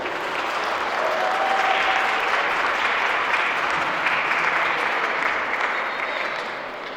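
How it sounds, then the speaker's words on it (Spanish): A lecture audience gives a strong, dense round of applause lasting several seconds to welcome a speaker presenting on immigration and urban expansion in Villa Mercedes, then the clapping tapers off near the end. "La recibimos con un fuerte aplauso."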